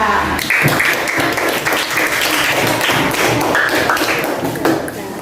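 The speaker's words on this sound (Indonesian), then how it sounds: "Tepuk tangan untuk kelompok Malaysia." Students in a classroom clap for a group, a busy, fairly loud patter of many hands at close range, with a few louder taps and some voices underneath, thinning out near the end.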